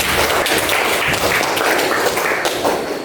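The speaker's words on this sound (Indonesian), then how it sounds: "Berikan tepuk tangan untuk teman-teman kalian" Students in an Islamic religious studies classroom clap for their classmates, a short burst of close, uneven hand claps filling the room steadily for a few seconds.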